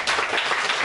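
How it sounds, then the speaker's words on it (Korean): Brief burst of applause from a church congregation at a Friday prayer meeting, a short, steady patter of clapping that fills the moment without voices. "박수 한번"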